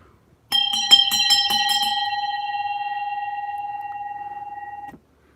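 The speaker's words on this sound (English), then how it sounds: "I call it a dinner bell, but real sailors probably call it something else" A sailboat's brass-toned bell, used as a dinner bell, struck rapidly about six times, then a long clear ringing tone that sustains for several seconds before stopping abruptly; close and loud, no voices.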